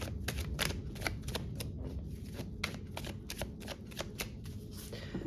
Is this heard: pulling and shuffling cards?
yes